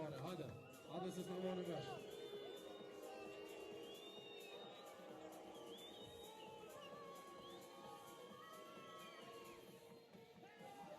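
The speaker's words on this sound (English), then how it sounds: "You can hear the crowd." A basketball crowd at a FIBA 3x3 Europe Cup qualifier in Kosovo murmurs and cheers throughout, moderately distant, with a louder swell early on and a commentator talking over it.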